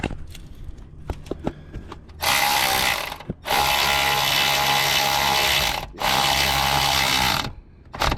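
A hand ratchet tightens a bolt on the alternator of a 2000 Infiniti I30, with two long, loud, continuous stretches of fast clicking separated by a brief pause and a few light taps before them.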